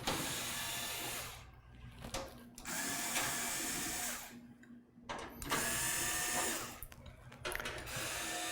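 Mechanical clicking and ratcheting from a screwdriver backing out the side panel screws of a PC case during a desktop build, in several bursts of steady rasping broken by short pauses, fairly close and fairly loud.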